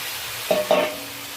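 Carrot, potato and ridge gourd, already fried, drop into a sizzling masala in the pan, giving two short bursts of hiss and stirring over a quiet background, with no talking.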